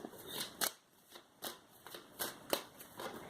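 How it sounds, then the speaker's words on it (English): Tarot cards being shuffled by hand, with repeated crisp riffling bursts in an irregular rhythm, close and fairly quiet, with no talking. "All right, I'm just going to keep shuffling."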